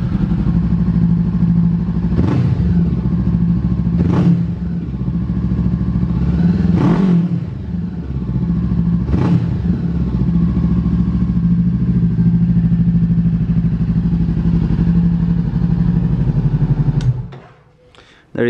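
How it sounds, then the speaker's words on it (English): A Honda CBR500R motorcycle engine runs loud and close on a cold start, holding a steady idle broken by four short throttle blips before cutting off near the end. "I'll let you hear the bike once again. So it's a cold start."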